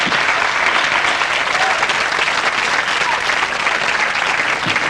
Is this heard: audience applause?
yes